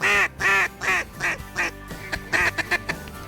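A duck on a hunt in Kansas gives a run of loud, nasal quacks, several strong calls at first, then shorter, quieter ones in a rapid, uneven series, with no talk.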